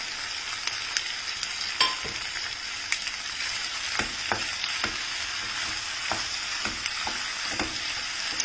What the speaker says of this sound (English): just saute it for another 30 seconds to 1 minute